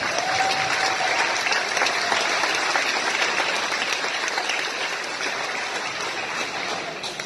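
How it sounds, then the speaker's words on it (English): Sustained audience applause at a charity motorcycle ride fundraising event, dense clapping at steady loudness throughout, slightly easing toward the end, with no one speaking. "Let's all give them another round of applause."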